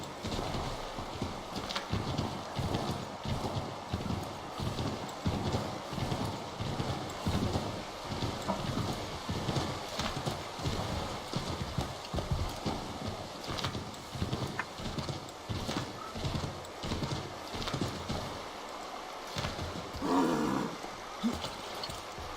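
A horse's hooves clip-clop in a steady, continuous rhythm while riding in the video game Assassin's Creed III Remastered, close and prominent over game ambience throughout.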